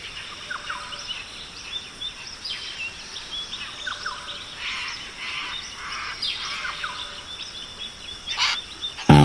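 Macaws calling in the Guyana Amazon rainforest: repeated harsh squawks and chirps at moderate distance over a steady hiss of forest insects, with the calls scattered irregularly and growing slightly louder near the end.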